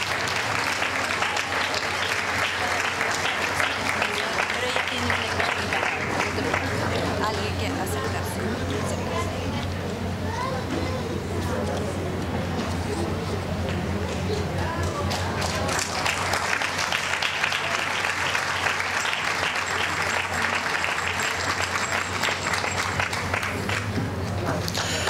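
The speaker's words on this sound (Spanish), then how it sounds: "Felicitaciones y el aplauso para Damaris Malma Porras." At an International Women's Day award ceremony, a large audience claps for an honoree. The applause is loud and steady at first, fades into murmuring chatter and a spoken voice in the middle, and then swells into another strong round.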